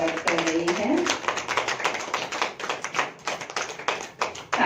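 An audience claps at a women's day programme during a welcome ceremony, giving a steady patter of many hands near and loud, with a voice speaking over the start.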